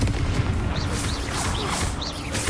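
Confringo blasting spell fired during a Hogwarts Legacy duel: a dense, loud crackling roar of magical blasts, with repeated sharp bursts and rising whistling tones over a sustained rumble, no talk.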